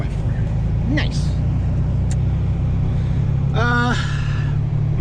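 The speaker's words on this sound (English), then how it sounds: "the truck's gonna roll in 4x4" A 4x4 truck rolls along in cold weather, its engine a steady loud low rumble throughout, with a voice talking briefly over it.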